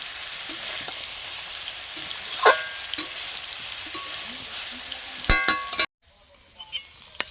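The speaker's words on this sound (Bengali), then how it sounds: "আলুগুলো হালকা ভেজে নিয়েছি, তুলে নিচ্ছি।" Potatoes frying gently in oil over low heat, a steady soft sizzle with faint clinks of a utensil, ending in a sharp clatter as the pieces are lifted out and the pan falls quiet.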